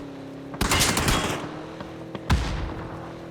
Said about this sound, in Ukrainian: По мені всі стріляють